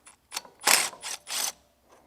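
A hand ratchet turns out bolts during a two-speed seal change on a Tilmor 520 tractor, several quick bursts of clicking pawl ratcheting, close and loud, with no speech.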